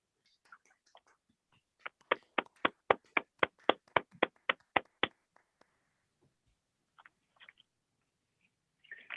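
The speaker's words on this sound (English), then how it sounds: "Let's have one more round of applause for our new inductees." Applause for new inductees closing a Pi Mu Epsilon mathematics honor society induction ceremony at Manhattan College: about a dozen crisp, evenly spaced claps, close and fairly sparse, followed by quiet with a few faint small noises.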